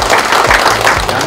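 Loud applause welcoming Ahn Cheol-soo at a Bareun Party gathering, a brief burst of dense crowd clapping close and full, with low rumbling room noise underneath.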